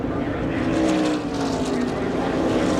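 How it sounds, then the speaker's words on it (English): A NASCAR stock car at the 1995 Pepsi 400 heads into a corner, its engine a steady, droning roar at constant loudness with a slight rise and dip, heard from a distance amid broadcast ambience. "We can hear the engine in the Hell Source car."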